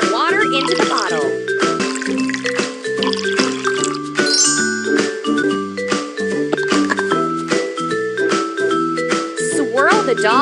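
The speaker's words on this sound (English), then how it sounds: "Pour some water into the bottle." Water pours into a bottle in a surprise-doll reveal game, with trickling and dripping sounds set among bright tinkling chimes and a bouncy looping game tune that continues throughout.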